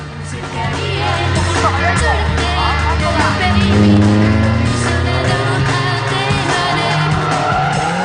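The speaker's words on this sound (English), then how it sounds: "I think we'll go back to the drifting now." A drift car at a Big X drifting event screams past with a loud, sustained engine roar and long tire squeal, rising and falling as it slides, while a commentator talks over it.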